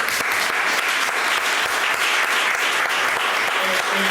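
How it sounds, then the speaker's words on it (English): An audience claps in a dense, continuous round of applause that stays loud and steady throughout, with some voices mixed into the clapping. "let's get a round of applause"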